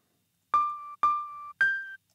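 Three short synthetic tones in a row from a Serum wavetable built from a piano sample, each with a sharp struck onset that settles into a steady sustained pitch, the third slightly higher, piano-like and clean.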